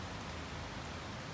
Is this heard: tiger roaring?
no